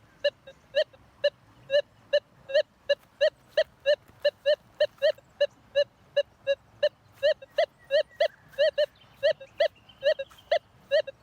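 A metal detector sweeps over buried gold, giving a fast, steady run of bright electronic beeps, about two or three per second, loud and close, with no talk over it.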